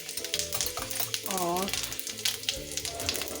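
Fenugreek seeds and cumin sizzle hard in hot oil for a tadka, a continuous close-up crackle with a voice speaking briefly over it.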